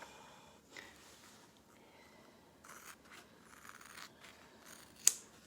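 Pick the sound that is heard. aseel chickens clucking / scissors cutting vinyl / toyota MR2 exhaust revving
scissors cutting vinyl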